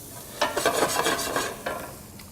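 Garlic and onions with cumin fry in a pan, a soft sizzle broken by quick stirring scrapes and clatters in a brief burst, fairly faint and close.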